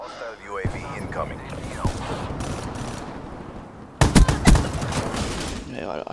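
Rapid bursts of automatic gunfire in an online team shooter, scattered through the clip and peaking loud near the end, with game audio and background noise running throughout.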